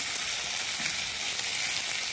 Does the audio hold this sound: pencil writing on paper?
no